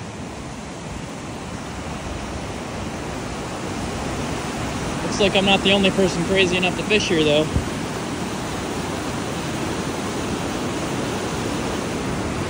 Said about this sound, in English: status of the river. It's flowing really fast.